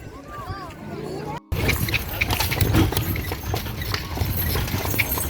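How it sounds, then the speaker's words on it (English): Hooves of a horse-drawn carriage clip-clop on the road near the pyramids in a steady trotting rhythm, close and fairly loud, mixed with vehicle noise, and people talk over it. "Ride on this horse carriage with two beautiful gentlemen."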